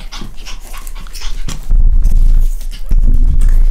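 Panting from a puppy of a young litter, rapid rhythmic breaths close to the microphone with some rustling and handling noise, and no talk.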